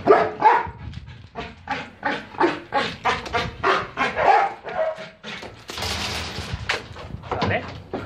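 A tethered dog barks repeatedly while being provoked during bark-on-command training, with rapid, loud, close barks in a steady run and a brief noisy scuffle partway through.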